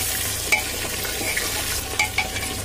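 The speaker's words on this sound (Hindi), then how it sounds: "पाए डालने के बाद अच्छी तरीके से उसको प्याज के साथ चला लेंगे।" Goat trotters are stirred with onions in a pot, giving a steady close sizzle of frying under scraping, with a few sharp clinks of the spoon against the metal.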